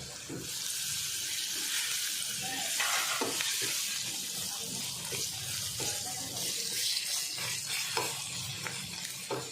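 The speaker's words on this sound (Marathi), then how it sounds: "आता हे मिक्स करायचं आणि ह्याच्यात बटाटे टाकून घ्यायचे" Spices and potatoes being stirred in a hot pan for chicken kheema misal, with a steady frying sizzle under scattered scraping and clinking of a spoon, close and moderately loud, without talk.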